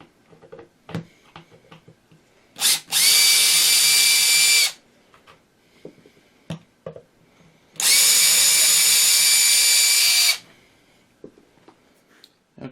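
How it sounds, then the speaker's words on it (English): A power drill backs screws out of the rear panel of a VOX VT-40+ guitar amp in two loud, steady bursts of a few seconds each. Light clicks and handling taps fill the gaps, close up and without speech. "remove a few screws off the back and get the back panel off"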